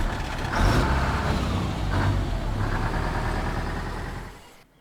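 A car engine in Far Cry 2 drones steadily while driving, a rough low rumble with slight revving swells, holding close and loud before cutting off abruptly at the end.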